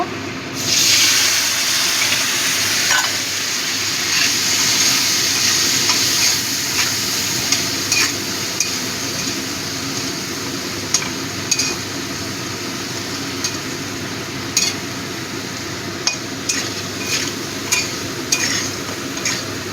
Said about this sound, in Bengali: একটু গরম জল দেব।